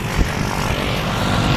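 A skydiving airplane's propeller engine drones loud and constant from inside the cabin, a steady broadband roar with no speech.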